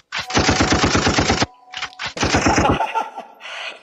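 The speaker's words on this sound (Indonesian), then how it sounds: "Kasih tembakan dulu." Loud rapid gunfire sound effect: a fast machine-gun burst of evenly spaced shots, a brief pause with a few scattered blasts, then a second burst trailing into a fading rattle, with no talk.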